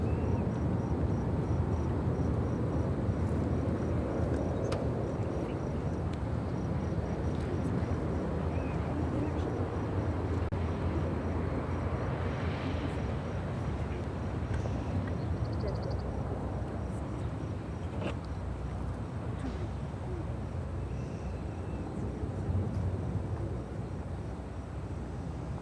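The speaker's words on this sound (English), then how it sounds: "This is Ethiopian Airlines 575 taking off to Addis Ababa on the" An Ethiopian Airlines Boeing 787-8 Dreamliner takes off at Chicago O'Hare, a steady broadband jet roar with a rumbling low end that holds loud and even for the full stretch, sounding at a distance under outdoor background noise.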